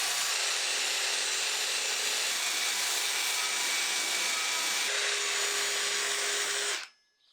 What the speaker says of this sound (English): allowing me to remove it using my drill and a wire brush